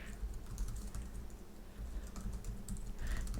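Close fingers type on a computer keyboard in a quick, steady patter of keystrokes with no talking.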